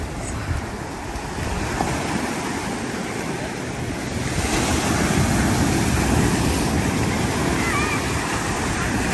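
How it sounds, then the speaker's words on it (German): Large sea waves roll and crash continuously at a beach bar in Mahmutlar, Alanya, Turkey, loud and near, with wind buffeting the microphone and a surge of surf midway. "Ich liebe dieses Geräusch der Wellen,"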